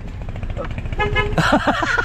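A car horn honks a few times close by on a Manila street, preceded by a brief burst of voices and street noise.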